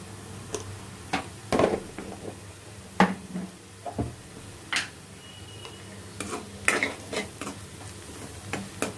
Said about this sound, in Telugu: ఇక్కడ మనకి ఆనియన్స్ అయితే వేగిపోయినాయండి. ఇప్పుడు ఇందులో కొద్దిగా పసుపు యాడ్ చేసుకున్నాము.